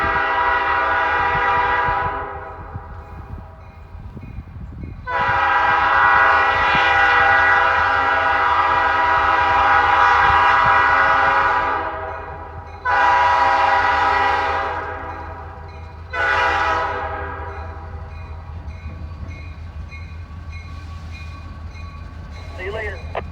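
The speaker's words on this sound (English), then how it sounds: "All right, here comes the train." A grain train passes a railroad crossing with long, loud horn blasts in several bursts over a continuous low rumble of rolling cars.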